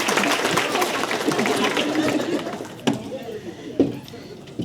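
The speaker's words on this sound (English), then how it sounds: "Let's give him a round of applause." Applause for Russell at a Chamber of Commerce awards gala, a warm crowd clapping that fills the room for a few seconds before fading into chatter and scattered handling knocks.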